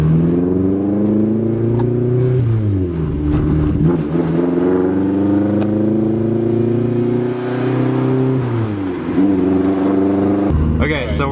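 Car engine running on rubbing alcohol fuel, heard from inside while driving: the pitch climbs through repeated revving pulls and drops at gear changes, and a person speaks briefly over the engine.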